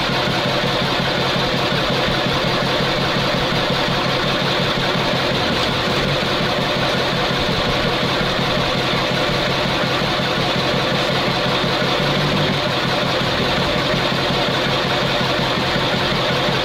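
A ZIL truck engine runs loud and steady at close range as the clutch engages to pull away in low gear, a constant heavy rumbling drone with no talk over it.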